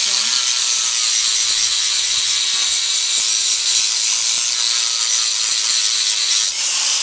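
A power grinder trims a wild mustang's hoof in a natural barefoot trim, giving a steady, loud high-pitched abrasive whir that runs continuously throughout with a faint low hum beneath.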